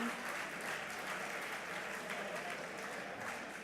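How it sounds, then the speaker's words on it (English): Dinner audience applauding steadily for Virginia Duncan, a plaintiff in Duncan v. Becerra, at a Second Amendment dinner; dense, even clapping fills the room throughout with no pause. "let's give a round of applause to Virginia Duncan for being a plaintiff in Duncan v. Becerra"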